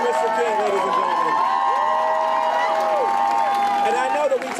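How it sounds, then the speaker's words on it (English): A large crowd at a Boston Freedom Rally anniversary event applauds and cheers continuously, the clapping and shouts blending into a dense, sustained roar with whoops rising above it. "Let's give one more Boston round of applause for Mr. King"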